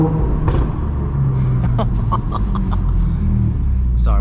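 Audi S4 B8.5 fitted with an AWE exhaust and test pipes gives a steady, loud low rumble throughout, heard from inside the car while driving, with a faint snicker of laughter and brief higher noises on top.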